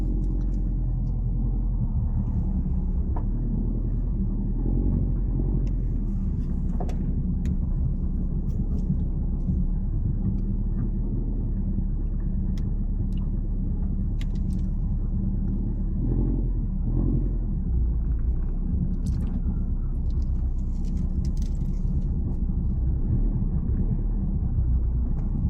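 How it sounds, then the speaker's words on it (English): A Nissan Silvia S15 sits idling while it warms up, giving a steady, continuous low engine rumble that holds evenly throughout with no talking. "Let the car warm up."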